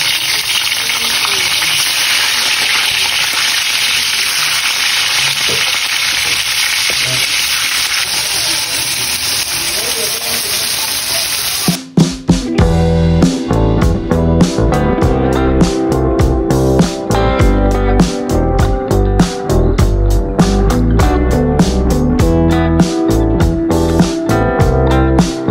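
Fish sizzling and spattering in hot oil in a pan, a steady loud hiss that turns denser and crackling partway through when more fish goes in, continuing without speech.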